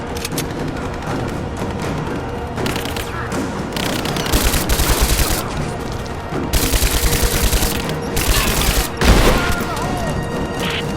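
Sustained automatic gunfire and rapid bursts from a firefight in the video game Rise of the Tomb Raider, loud and dense for the whole stretch with heavier booming volleys near the end.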